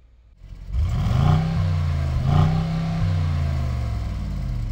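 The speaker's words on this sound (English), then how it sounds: "The active exhaust system has 2 different modes, balanced or powerful." A 2021 Mercedes-AMG GLE 63 S starts up with its active exhaust in powerful mode: a sharp catch, then a loud, deep burbling idle with two small blips of revs, close by and with no voices.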